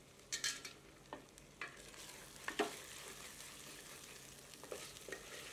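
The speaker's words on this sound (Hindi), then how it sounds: "अब इसे ढककर 5 से 7 मिनट धीमी आंच पर पकाते हैं, पर बीच बीच में करछी चलाते रहते हैं ताकि मसाला जले नहीं" Masala for Kerala-style Malabar chicken cooking on a low flame, scraped and stirred with a ladle, giving soft, irregular scrapes and light sizzling taps close by, with no talking.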